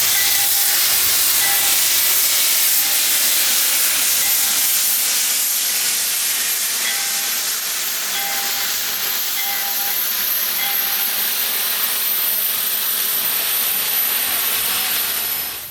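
Jeddo 85 steam locomotive making a run-by at a railroad museum, giving off a loud, steady hiss of escaping steam that fills the whole stretch without a break.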